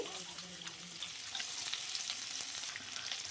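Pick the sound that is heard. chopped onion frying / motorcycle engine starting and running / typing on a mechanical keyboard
chopped onion frying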